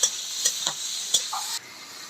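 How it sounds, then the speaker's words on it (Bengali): Onions fry in a pan on an earthen stove, the start of a Bengali chicken kosha. A steady, close sizzle carries light stirring scrapes and stops abruptly near the end. "পেঁয়াজটা এখন ভালো করে ভেজে নিয়ে আসছে।"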